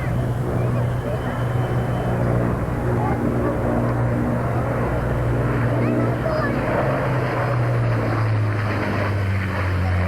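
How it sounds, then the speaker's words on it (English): An Avro Lancaster bomber flies past at the 1992 Humberside air show, a steady deep droning of piston engines and propellers that swells slightly, heard over open-air wind noise, with a voice talking over it. "A break from that now as the Lancaster comes back."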